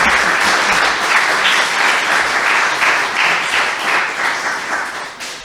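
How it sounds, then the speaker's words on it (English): Loud, dense applause from an audience at a candidate forum in Staunton fills several seconds, steady and close before easing off at the end. "Let's give our candidates a round of applause."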